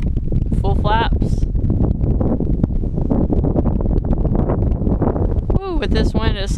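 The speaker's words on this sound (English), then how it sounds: "with this wind, it slows right down." Strong, steady wind buffets the microphone in a Carbon Cub S2 light aircraft on a windy evening flight, a constant rushing roar throughout while someone talks briefly.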